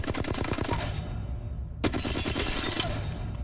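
Rapid automatic gunfire in the video game Apex Legends comes in loud, close bursts: one sustained stream, a brief pause, then another rattling volley.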